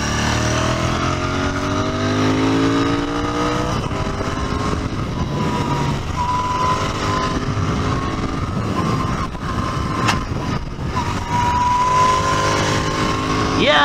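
An Interceptor 650 or Continental GT 650 motorcycle being ridden, its engine droning steadily up close and rising and falling in pitch through gear changes and throttle pulls, with wind rush throughout.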